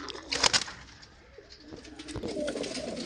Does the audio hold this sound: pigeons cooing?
yes